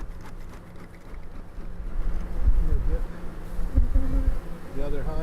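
Honeybees buzz steadily and close up while a hive is opened for inspection, a dense droning hum that swells slightly midway, with faint background voices under the swarm.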